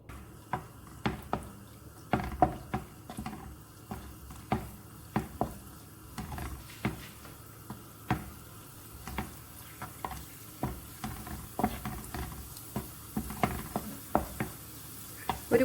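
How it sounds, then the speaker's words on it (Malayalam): Raisins fry in hot ghee in a kadai, a soft steady sizzle broken by a regular series of clicking stirring taps from the spoon, close and fairly quiet. "നെയ്യ് ചൂടായിട്ടുണ്ട്. ഇതിലേക്ക് ഞാൻ കുറച്ച് മുന്തിരി ഇട്ട് കൊടുക്കുന്നുണ്ട്."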